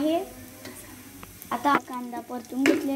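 Garlic and onion sautéing in a pan for a chicken fry, a soft sizzle under repeated scraping strokes of a spoon that grow louder in short bursts toward the end, close by, no voices.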